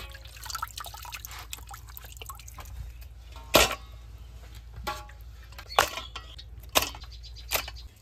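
Fish being rinsed by hand in water, with intermittent splashes and sloshes standing out over a steady low hum and quieter trickling between them.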